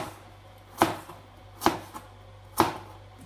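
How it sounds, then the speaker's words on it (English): A knife chopping carrots on a board, three crisp, evenly spaced chops close up in a quiet kitchen, no talking. "We're then going to chop our carrots, again about the same size pieces"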